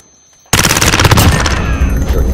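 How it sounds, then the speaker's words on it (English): Gunfire in a search-and-destroy round of a shooter video game, bursting in after a brief quiet as loud, rapid automatic shots with a sustained crackling tail. "Just keep on shooting."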